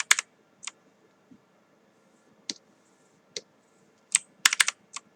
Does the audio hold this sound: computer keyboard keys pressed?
yes